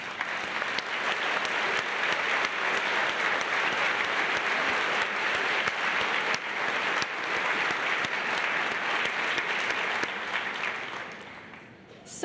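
Sustained, full applause from a large audience at a medical society fellows' induction ceremony, thick and steady for about ten seconds before tapering off near the end.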